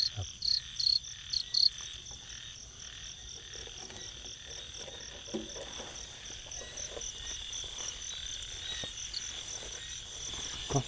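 Insects call at night during a night fishing bait hunt, a steady high-pitched trilling and chirping chorus that runs unbroken through the whole stretch, with a few soft knocks and rustles nearby.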